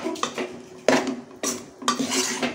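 Egg fried rice is stirred in a pan, with a spatula scraping and clanking against the metal in irregular strokes, close and clear, with no talking.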